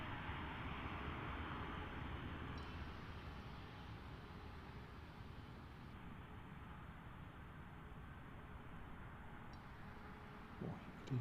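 A short domestic flight from Edinburgh lands at London Gatwick Airport, its engines a distant, steady low roar and broad rumble that holds for several seconds and then fades slightly.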